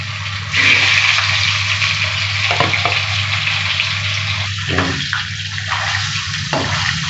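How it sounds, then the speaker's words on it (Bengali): Rohu fish pieces frying in hot oil give a loud, steady sizzle with bursts of crackling and spitting, heard close up without talk. "বাকি 2 পিস মাছও আমি এভাবে ভেজে নেব"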